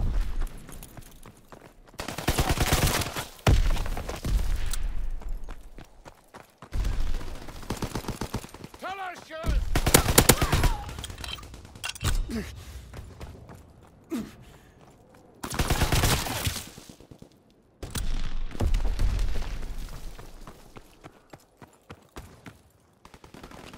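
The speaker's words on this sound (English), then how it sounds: "Enemy mortar fire incoming." Mortar fire and gunfire erupt on a Call of Duty WWII battlefield, with repeated loud bursts of rapid shots and heavy impacts separated by brief lulls.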